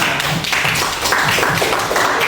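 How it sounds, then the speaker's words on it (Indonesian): A classroom group claps together in a quick, rhythmic burst of applause, close and fairly loud. "Tepuk tangan untuk kita semuanya."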